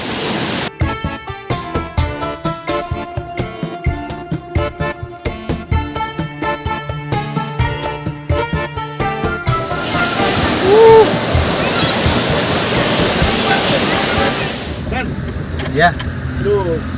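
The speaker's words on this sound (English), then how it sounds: "So here we present Kanchenjunga waterfalls, which comes from straight from the glacier of Kanchenjunga." Music plays at first, then gives way to a loud, steady roar of rushing glacier-fed water from the Kanchenjunga waterfall in West Sikkim, with voices faintly under it.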